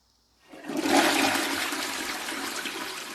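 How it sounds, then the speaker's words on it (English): A toilet flushes close by, a sudden rushing gurgle of water that swells quickly and then keeps draining steadily to the end, with no talking. "we gonna go ahead and flush that on down, man."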